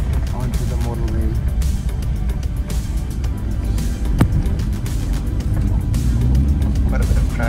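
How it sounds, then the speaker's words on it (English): Steady road traffic on a motorway, a continuous broadband rumble of passing cars and tyre noise with one brief sharper pass midway, and voices talking over it. "Quite a bit of traffic."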